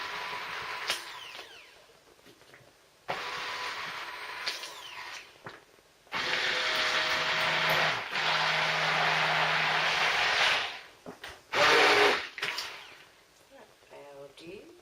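A stick blender whizzes thick cold process soap batter made with buttermilk in several loud, close bursts of high whirring with short pauses between them, alongside a few faint knocks and clatters.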